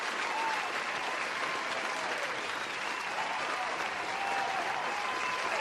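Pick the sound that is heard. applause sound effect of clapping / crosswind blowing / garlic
applause sound effect of clapping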